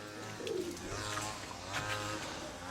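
A few soft coos come from pigeons perched up high in a loft in Ukraine. There is faint background noise and no talking.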